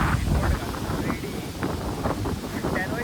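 Strong gusty wind ahead of heavy monsoon rain on a coastal farm with banana trees and paddy fields, a steady loud roar buffeting the microphone.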